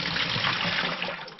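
Water from a worm farm is poured into a 5-gallon bucket, a brief, close, steady splashing gush that tapers off at the end.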